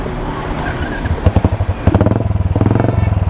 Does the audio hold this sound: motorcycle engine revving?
yes